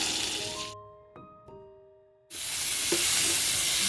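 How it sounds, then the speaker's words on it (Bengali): Pointed gourd pieces fry in oil with turmeric and salt, giving a steady, loud hiss that drops away briefly, leaving a few soft tones and clicks, then returns even stronger. "এটা লাল করে ভেজে নেব।"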